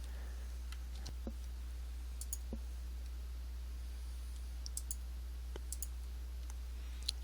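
A computer mouse clicking sharply several times at irregular intervals against a low steady hum, close and quiet, with no talking.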